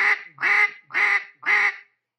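A duck call blown in fast, hard quacks imitating an alarmed mallard hen being flushed: four loud, close, evenly spaced nasal quacks, then silence, with no talking.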